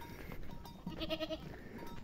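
A single goat bleat rises briefly over a steady outdoor background on a village goat farm, with faint rustling and no talking.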